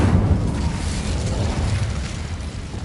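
An Incendio fire spell cast in the Hogwarts Legacy video game gives a loud, steady roaring whoosh of flame, heavy and low, sustained for the whole moment with no talking over it.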